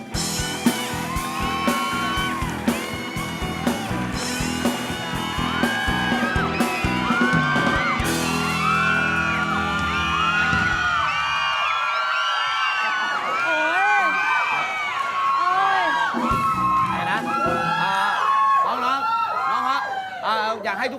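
A TV studio audience shrieks and cheers in high-pitched bursts over music, the excited screams rising and falling throughout.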